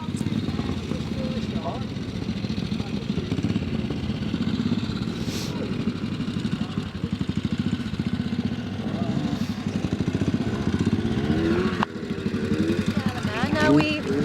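Trial motorcycle riding through a stream at the Manx Classic Trial on the Isle of Man, its engine note steady and fairly close throughout, with people talking over it.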